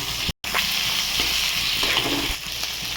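Cooked potato pieces tumble into a pan of tomato curry, setting off a loud close sizzle with stirring and scraping and a brief break near the start.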